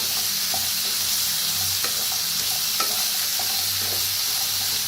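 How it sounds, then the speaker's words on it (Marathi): Bitter gourd being stirred in a hot frying pan, a loud continuous sizzle with scattered scrapes and taps from a spoon as the pieces are mixed, close up. "आता ह्याच्यात टाकूया कारले, चांगलं मिक्स करूया।"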